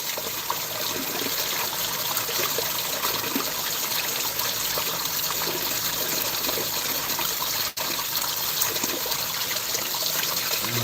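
Water runs and splashes over rocks into a newly filled garden pond, a steady, close, continuous trickling gush with no voices over it.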